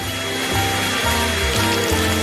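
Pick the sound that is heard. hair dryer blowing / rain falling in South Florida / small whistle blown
hair dryer blowing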